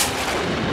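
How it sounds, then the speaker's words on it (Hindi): Gunshot in a tense indoor crime-drama scene, a loud dense burst of noise filling the whole short moment with no speech over it. "ये तो गोली की आवाज है"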